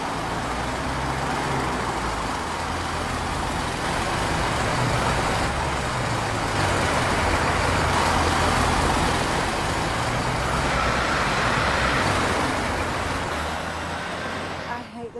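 Steady, dense road traffic at a busy junction with traffic lights, vehicles coming from several directions in a continuous loud roar with no clear pauses.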